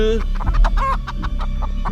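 Chickens cluck in a rapid, broken series of short calls, fairly loud and close, with steady low background noise underneath.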